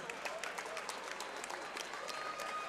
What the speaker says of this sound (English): All right, a round of applause for these two warriors.